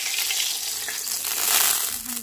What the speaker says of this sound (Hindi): और जाएगा ये हमारे चावलों के ऊपर। तड़का लगा देंगे